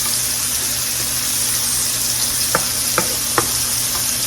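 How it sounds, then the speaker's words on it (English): Mushrooms browning in a hot frying pan with garlic, a steady close sizzle punctuated by a few sharp clicks and taps near the end, no voices. "See how those mushrooms are browning up?"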